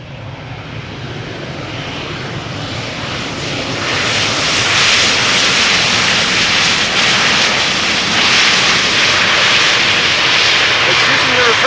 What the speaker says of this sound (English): KLM used the reversers.